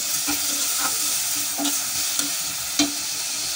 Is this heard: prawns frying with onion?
yes